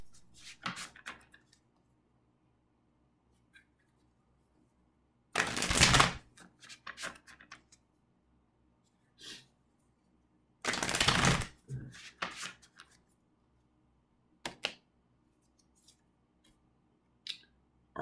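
A deck of tarot cards is shuffled in two loud riffling bursts, with soft card handling, taps and clicks scattered between them in a quiet room.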